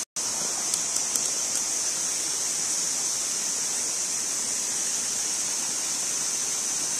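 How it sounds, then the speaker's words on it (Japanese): A continuous, even rush of flowing water from a small woodland stream, steady throughout with no voices. "せせらぎの音が涼しい。"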